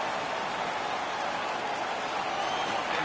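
Home crowd roaring and cheering steadily inside a hockey arena in the NHL 16 video game after a fight, a dense, continuous wash of noise with no breaks.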